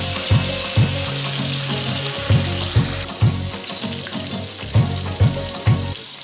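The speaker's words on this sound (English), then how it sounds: "try frying the steak in fat rather than regular cooking oil" A T-bone steak fries in its own rendered fat with a loud, steady sizzle close by. Periodic soft thumps and scrapes from handling the meat or pan punctuate it.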